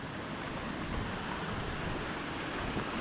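A forest stream in the monsoon-soaked Konkan countryside gives a steady, dense rush of flowing water, broad and unbroken throughout with no voices.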